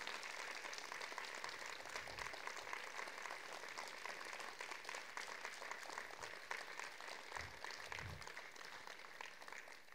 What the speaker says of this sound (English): Let's have one more final round of applause for our wonderful vocalists and musicians.